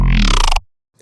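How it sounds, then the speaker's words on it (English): A juicy growl bass synth patch built in Serum inside FL Studio, a loud, harmonically dense, buzzing tone held for about half a second and then cut off abruptly, followed by a faint short tail. "how I used Serum and FL Studio to create the juiciest growl known to man"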